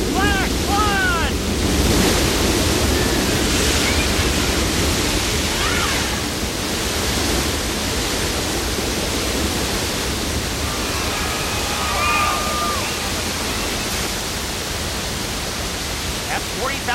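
A theme park flash flood effect sends 40,000 gallons of water rushing down a hillside, a loud steady roaring wash of water heard from nearby for the full stretch, with scattered crowd voices and chirpy sounds faintly over it.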